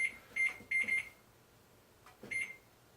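An electronic kitchen timer on a microwave or stove gives short, bright beeps as it is set for cooking noodles: a quick burst of four beeps, then a pause and a single beep.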